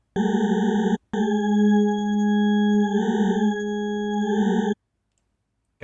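A synthesizer preset plays sustained tones stacked in octaves, with a bright, layered timbre. The notes hold and swell gently, with a brief gap near the start and silence at the end.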